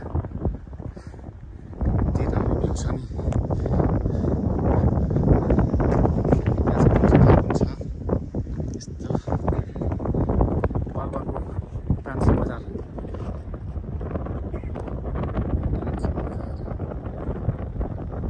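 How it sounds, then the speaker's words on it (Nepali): Cool wind blows across a hilltop at Maramkot in Palpa, a steady broadband rush buffeting the microphone throughout, with someone talking over it. "यस्तो राम्रो चिसो हावा लाग्दैछ गाइजहरू। सररररर हावा लागिरहेको छ पुरा।"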